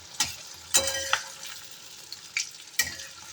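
Koftas fry in very hot oil with a steady low sizzle, broken by several sharp spatula clinks and stirring scrapes against the pan, close and with no talk.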